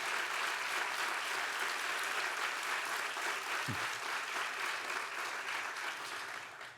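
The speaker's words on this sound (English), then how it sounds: "Y'all can clap for that." Audience applause at a transfer achievement celebration honoring a law student, steady dense clapping from a crowd that holds evenly for several seconds before beginning to taper at the end.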